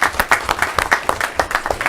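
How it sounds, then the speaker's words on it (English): An audience claps for school directors and a principal, a close and loud burst of individual hand claps in a quick, uneven rhythm, with some cheering mixed in throughout the two seconds. "I want to applaud all my directors and my principal sitting there."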